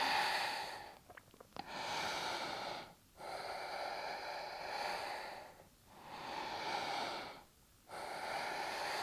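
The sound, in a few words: breathing during yoga down dog pose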